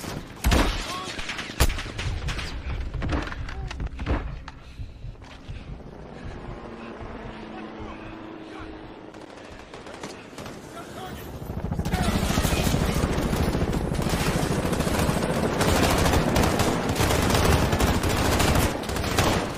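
Call of Duty: Modern Warfare combat, with scattered gunshots early, then sustained, dense automatic gunfire roaring steadily under a low vehicle or helicopter drone for the last several seconds.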